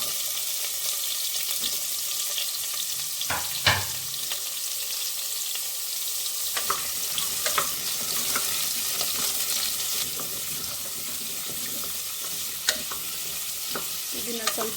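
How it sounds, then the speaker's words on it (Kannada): Cut carrots frying in hot ghee for carrot halwa, a steady close sizzle with occasional stirring clatters and scrapes of the spoon in the pan, no voices. "ಇದನ್ನು ಸ್ವಲ್ಪ ಹೊತ್ತು ಈ ರೀತಿ ಫ್ರೈ ಮಾಡಬೇಕು ತುಪ್ಪದಲ್ಲಿ"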